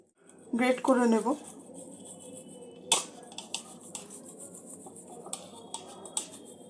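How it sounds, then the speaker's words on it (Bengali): Paneer rubbed against a metal grater in a home kitchen, a soft run of quiet scraping strokes heard after a brief burst of speech. "এখানে পনিরটা গ্রেট করে নেব।"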